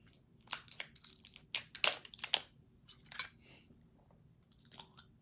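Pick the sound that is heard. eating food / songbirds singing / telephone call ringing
eating food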